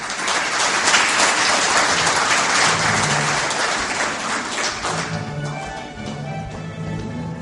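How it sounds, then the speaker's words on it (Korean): An audience at a political launch event claps in a sustained burst of applause, dense at first and gradually thinning out toward the end. "큰 박수 많이 해주십니다"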